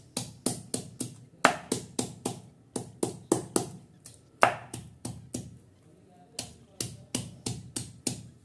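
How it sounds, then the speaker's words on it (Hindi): Peeled potatoes for a pahadi sabzi are crushed by hand instead of cut with a knife, making quick, close, rhythmic thumps in short bursts with brief pauses between them. "इसे चाकू से नहीं तोड़ना है, इसे ऐसे ऐसे करके इसको थेच लेंगे"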